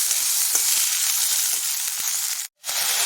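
Peeled hyacinth beans (avarekalu) roast in a hot pan with a steady, bright sizzle and a few soft scraping stirs. The sizzle cuts out briefly near the end, then comes back.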